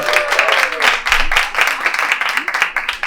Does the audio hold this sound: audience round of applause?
yes